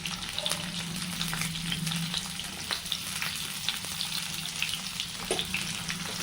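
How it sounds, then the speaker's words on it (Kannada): Ginger, onion and green chillies fry in oil for a natti-style chicken biryani, with a steady, close sizzle and crackle and scattered light stirring clicks throughout. "ಸ್ವಲ್ಪ ಫ್ರೈ ಮಾಡ್ಕೊಳ್ಳೋಣ"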